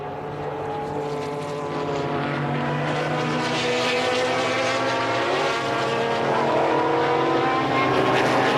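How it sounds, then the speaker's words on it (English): A Porsche Group C sports prototype racing engine at Donington in 2007 roars loud and close, a sustained rising growl that builds steadily. "Sumpter blasts the Just Porsche down the hill"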